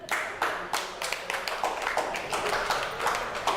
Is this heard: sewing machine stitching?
no